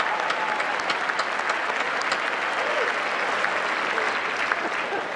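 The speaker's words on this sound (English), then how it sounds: "Let's give them a big round of applause." Audience applause at the White House Correspondents' Dinner, a broad, sustained wash of clapping from a large crowd in a hall, steady and even throughout, with no one speaking over it.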